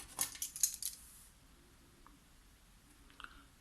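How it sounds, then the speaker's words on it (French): Scissors trim excess laminated paper from a laminator-made vintage Polaroid, giving a quick run of close, crisp snips at first, then a couple of faint clicks. "De ce côté, je vais découper ce qui dépasse."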